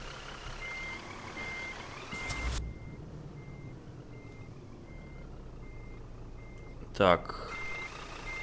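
A Scania truck in a driving simulator idles and rumbles while trying to reverse uphill at a sawmill. A steady reversing beep pulses in the background and a sharp air-brake hiss bursts near the end, with someone talking briefly.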